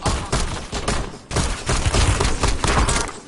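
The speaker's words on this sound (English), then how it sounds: "Taking effective fire." Dense automatic gunfire in Call of Duty Warzone on the Verdansk map, a steady barrage of rapid shots and thuds with brief lulls, loud and close throughout.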